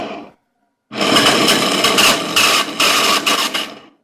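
A Snapper lawnmower engine, just fitted with a repaired starter, follows a brief pull and a pause: it catches with a loud, rough roar, sputters unevenly for about three seconds, then fades out.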